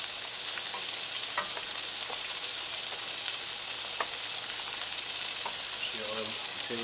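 Potatoes sizzle and fry in a pan while being stirred, a steady crackling hiss with a few scraping stirs and light clinks, no talking over it.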